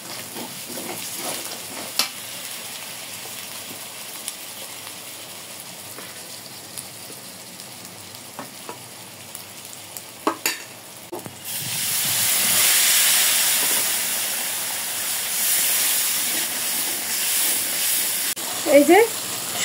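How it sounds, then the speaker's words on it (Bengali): A masala of ground cumin and coriander paste with salt is sautéed in a pan. Quiet scrapes and clicks of stirring come first, then a broad, loud sizzling hiss swells and lingers. "এই যে সুন্দরভাবে মশলা কষায় নিয়েছি, চমলক্ষ মশলা।"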